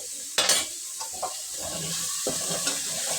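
Potatoes and carrots frying with salt, garam masala and coriander powder for vegetable pulao, a soft continuous sizzle with a few sharp stirring scrapes and clanks of utensil on pan, close by.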